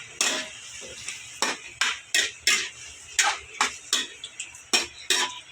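A utensil clanks repeatedly against a pan while chicken liver adobo is stirred, a dozen sharp metallic scrapes and knocks in an uneven rhythm, close and clear.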